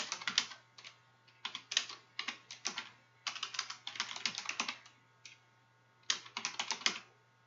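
Steady typing on a computer keyboard while entering a heading name, bursts of rapid close key clicks separated by short pauses, with no talking.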